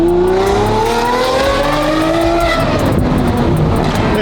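A high-revving Lamborghini SV V12 engine screams loudly, its pitch climbing steadily then dropping, with a rough rasp underneath throughout.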